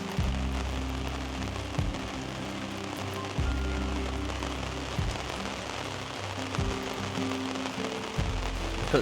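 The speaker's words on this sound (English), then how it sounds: "The anticipated rain has finally arrived." Rain falls on a motorhome parked in the Loire Valley, a soft steady patter of drops on the roof with a few louder knocks, heard close and alone.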